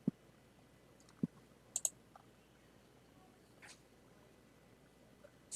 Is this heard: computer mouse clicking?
yes